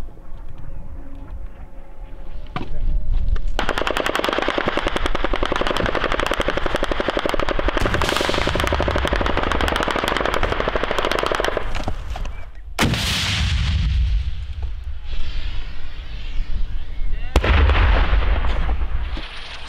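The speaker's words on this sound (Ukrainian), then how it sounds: "Це вже по нас стріляють?" Sustained bursts of heavy gunfire, rapid and loud, with booming blasts cutting in and echoing away between volleys, during a Wagner infantry assault on Ukrainian positions near Bakhmut.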